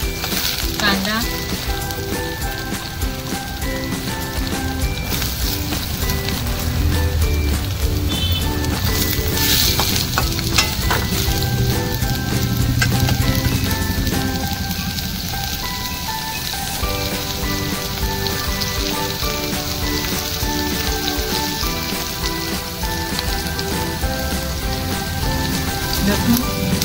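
Onion and garlic fry in a pan for a gongura (ambadi) bhaji, giving a dense, rain-like sizzle that holds steady for nearly half a minute, with occasional clatter from stirring.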